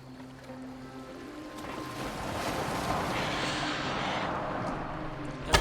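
Rowing a small rowboat in Assassin's Creed Valhalla: a steady wash of water and wind with soft rhythmic splashes, continuous and fairly close, swelling slightly toward the end with a brief sharp knock.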